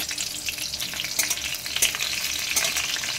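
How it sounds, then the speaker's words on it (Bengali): Whole slit green chillies hit hot oil for a tempering with nigella seeds, crackling in a dense close sizzle with sharp spitting pops scattered through it, stirred lightly, no voices. "এবার দিয়ে দিচ্ছি গোটা কাঁচা লঙ্কা, ফোড়নে দিয়ে দিচ্ছি।"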